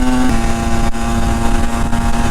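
Motorcycle with 22,000 km on it running steadily as it is ridden, a loud continuous engine drone with a constant pitch and strong wind rush filling the whole stretch.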